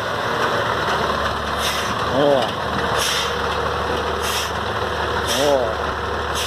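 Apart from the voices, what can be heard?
truck engine idling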